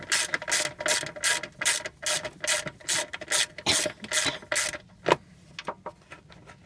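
A hand ratchet clicks steadily on a 10mm bolt, a fast regular train of sharp ratcheting strokes close by that slows and thins out near the end as the bolt comes loose.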